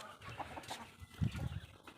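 Chickens and large roosters cluck and murmur close by, a steady low flock chatter with a louder burst of clucking partway through.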